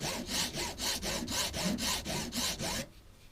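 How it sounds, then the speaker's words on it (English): A rounded file rasps back and forth across freshly cut bamboo edges, about nine quick, close strokes in a steady rhythm before stopping, with no talking. "for the file portion, I'm just going to use a rounded file"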